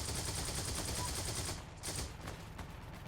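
Rapid automatic gunfire in the WWII shooter Hell Let Loose, a dense continuous fusillade that briefly drops out, then resumes slightly quieter with distant battle noise.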